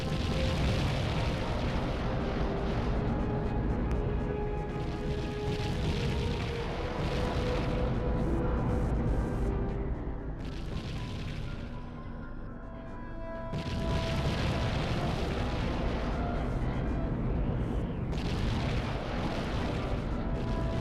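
Missile explosions in a video game, a sustained roaring blast and rumble lasting most of the stretch, easing briefly midway before surging loud again with booming bursts.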